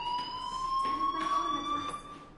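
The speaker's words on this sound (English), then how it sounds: "Hey, do you hear that fire alarm?" A fire alarm in the video game Life is Strange rings with a steady electronic tone, a continuous loud pitched wail overlaid with pulsing bursts, fairly close and unbroken.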